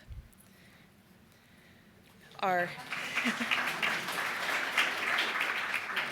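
Audience at a conference breaks into broad applause after a brief pause, a steady wash of many hands clapping close by that builds and holds without fading.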